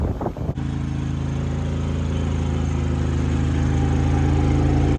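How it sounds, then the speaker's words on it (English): A steady, droning generator hum runs continuously inside a garage after a brief gusty noise at the start, even and mechanical throughout. "You hear a little humming from the generator"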